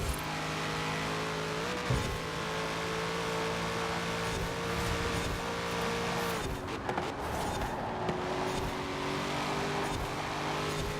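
A Corvette Z06 driven in Forza Horizon 4 holds a steady, droning engine note that dips and shifts with gear changes, continuous and fairly close, with light tyre noise and no talk.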